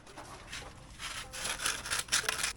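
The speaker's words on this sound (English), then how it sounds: "I'm going to get some sandpaper and go around the inside of that and get the little nubby rubby" Sandpaper rubbed by hand around the inside of a rubber air cleaner adaptor, a steady close scratchy rasping in repeated strokes that gets louder and more vigorous toward the end, with no talk.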